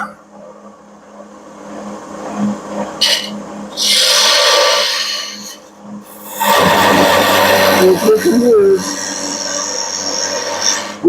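A turning tool makes a scraping cut on spinning wood on a Mark 4/7/520 lathe: loud rasping bursts rise and fade over a steady motor hum, with short gaps between passes and no talking.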